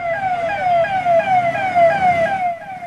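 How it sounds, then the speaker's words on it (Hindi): A police car siren wails loudly and close by in repeated rising sweeps as the patrol vehicle, decorated with balloons, moves through the narrow lanes of Chhapra, fading near the end. "गुब्बारे लदी, सायरन बजाती पुलिस की गाड़ी।"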